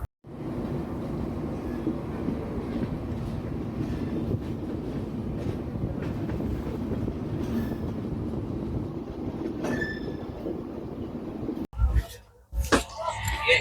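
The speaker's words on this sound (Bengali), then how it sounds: "আমাদের ট্রেন খড়গপুরে ঢুকছে" The 12841 Coromandel Express rolls on rails as it enters Kharagpur, a dense, steady rumble with faint rhythmic clatter heard from inside the carriage, broken near the end by abrupt louder knocks.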